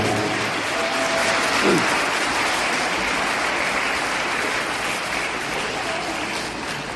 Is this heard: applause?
yes